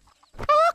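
A cartoon chicken gives a single short cluck, a brief loud call after a soft rustle, ending abruptly with another sound starting.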